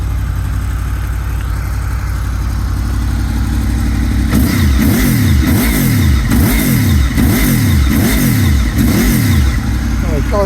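A Honda VFR800 V-TEC motorcycle with Arrow exhaust cans idles steadily, then is revved repeatedly in rising and falling swells, loud and close, with someone talking over it.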